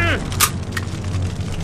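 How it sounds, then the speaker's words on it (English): Bazooka blasts from the Turkish action film Turkish Rambo, blowing up a mountain bandit hideout: two sharp bursts in quick succession over a steady low hum and rumble. "So Serdar and his bazooka pop gun go blowing up the entire hideout"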